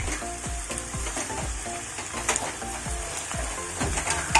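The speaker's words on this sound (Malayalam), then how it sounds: "ഇതൊക്കെ ഇട്ടിട്ട് നന്നായിട്ട് വഴറ്റാം കേട്ടോ." Onion, ginger, garlic, green chili and curry leaves sauté in hot oil for a chicken dry fry, sizzling loudly under a regular knock and scrape of stirring.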